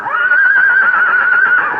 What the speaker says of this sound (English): That horse sounds frightened.